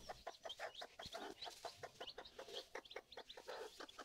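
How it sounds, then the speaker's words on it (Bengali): A white hen with her chicks gives a rapid run of soft, close clucks and peeps, the short calls tumbling over each other in a quick, uneven rhythm. "এটা হচ্ছে সাদা কালার একটা মুরগি।"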